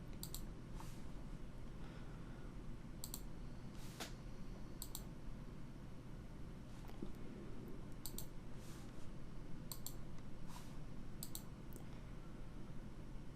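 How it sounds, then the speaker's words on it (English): A computer mouse left-clicks and a keyboard delete key is pressed while setting up a Divi ecommerce theme, giving sparse, faint, crisp clicks at irregular intervals over a quiet room hum. "I'm just left clicking on each of them, hitting the delete button"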